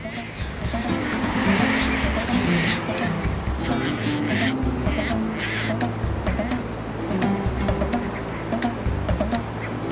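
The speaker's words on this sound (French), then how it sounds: "des bancs de sable sans cesse remodelés par les courants constituent l'habitat favori des oiseaux coloniaux, comme les sternes royales et caspiennes." Royal and Caspian terns call from a colony on shifting sandbanks off Guinea-Bissau, giving harsh, repeated cries over a busy background of wind and surf while someone narrates in French.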